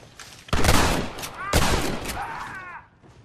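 Gunfire in the video game Red Dead Redemption, several loud close volleys of shots in quick succession with echoing tails, mixed with shouting voices.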